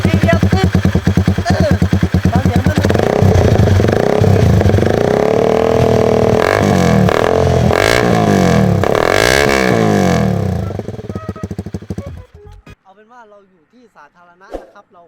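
A Sonic 250 motorcycle in racing trim runs loud and close, its engine revving up and down repeatedly for about ten seconds before cutting off, after which someone speaks briefly.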